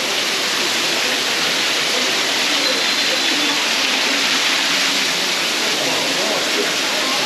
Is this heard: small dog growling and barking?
no